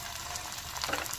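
Crab frying in hot oil gives a steady, dense sizzle that swells slightly near the end, close and moderately loud, with no voices.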